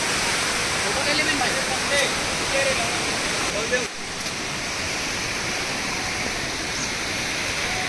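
Tirathgarh waterfall in Bastar, a loud steady rush of falling water filling the scene, with a voice talking faintly over it in the first half.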